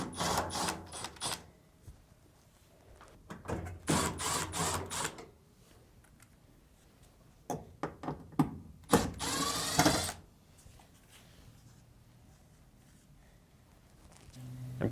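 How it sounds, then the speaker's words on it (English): A power screwdriver backs three screws out of the lint duct on a Samsung dryer, with repeated whirring mechanical bursts separated by pauses and a brighter buzzing burst near the end, close and alone. "remove the 3 screws on the lint duct"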